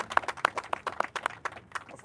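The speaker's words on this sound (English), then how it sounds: "Give her a round of applause." Scattered clapping from a small audience gathered at an environmental announcement in northern Manhattan, a short burst of individual claps at a moderate distance.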